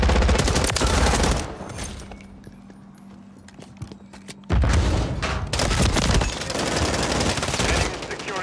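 Call of Duty 3 gunfire: heavy bursts of rapid shooting up close, then a brief quieter stretch with a low hum, then a sustained barrage of rattling fire.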